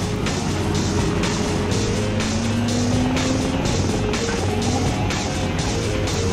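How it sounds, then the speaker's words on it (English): A helicopter chasing a car in Half-Life 2 Episode Two, with the engine and rotor roar running loud and steady throughout, layered over the car's rumble and a rising whine. "there's a freaking chopper chasing us again"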